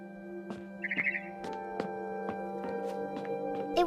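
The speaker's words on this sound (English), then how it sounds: "It was a barn swallow going back to her nest." A barn swallow chirps in the video game What Remains of Edith Finch, giving a string of short, bright tweets at irregular intervals over a soft, steady tonal background.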